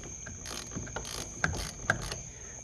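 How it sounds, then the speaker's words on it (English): A ratchet with a 10mm socket works a lock nut on the battery cable of a John Deere ZTrak mower, giving soft, irregular clicks and two sharper metallic ticks near and alone, with no talk. "it is a 10mm socket for the nut here"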